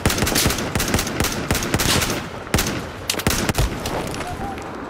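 Rapid gunfire in the Battlefield 4 video game on PS5, dense bursts of automatic shots and sharp cracks layered over a noisy battle background, loud and continuous across the whole stretch.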